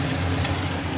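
Capsicum dropped into frying chilli potatoes, giving a loud, close, continuous sizzle with a brief burst of extra hiss midway.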